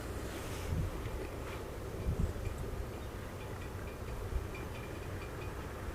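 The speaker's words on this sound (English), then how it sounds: "I have a little bit of wind from the side and from the back" Steady wind blowing outdoors, rushing across the microphone while a Phantom 4 Pro drone is flown, with a few low gusty buffets and no talking.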